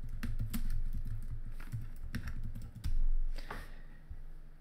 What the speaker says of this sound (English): go to the Google search bar and type in Google Analytics